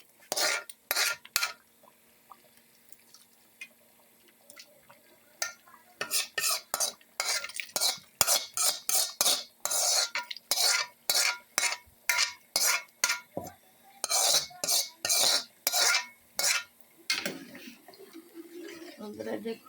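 Egg curry being stirred in a pan: a steady run of rhythmic metal spoon scrapes, close and distinct, with faint sizzling beneath and occasional quiet pauses between strokes.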